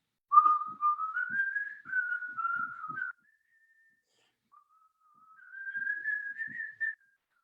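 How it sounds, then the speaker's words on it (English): Someone whistles a song alone, two clear phrases of the tune separated by a short pause, close and fairly quiet. "And then I heard in front of me the sergeant whistling."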